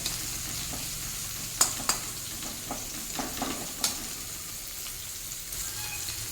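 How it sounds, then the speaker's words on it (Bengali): Bitter gourd fries in a pan with a continuous sizzle, broken by several sharp spatula scrapes and clacks as the pieces are stirred and turned. "উচ্ছের কালার চেঞ্জ হয়ে আসছে, আবার একবার নাড়িয়ে দেবো, দিয়ে আবারও বিছিয়ে দেবো"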